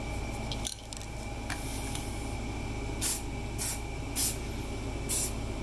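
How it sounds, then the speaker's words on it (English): Rust-Oleum 2X spray paint is applied to a cement owl figurine in short hissing bursts, four or five quick sprays near the end, over a constant low background hum. "I'm using Rust-Oleum 2X. All the paint you'll see is this."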